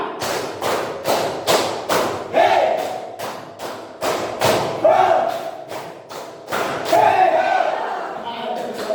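A class group claps in unison through a repeated one-two-three pattern, sharp bursts of hand claps in sets with short pauses, while voices call out between the rounds.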